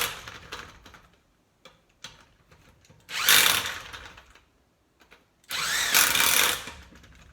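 Impact wrench on a tire's lug nuts during a tire change, firing in two loud, sustained rattling bursts of about a second and a half each, separated by quieter clicks and handling noise.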